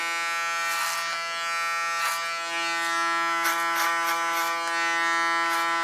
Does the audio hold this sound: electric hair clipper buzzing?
yes